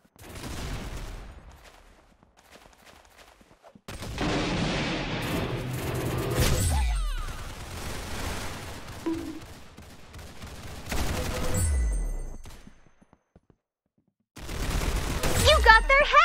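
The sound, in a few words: gunfire from guns in the Roblox Arsenal video game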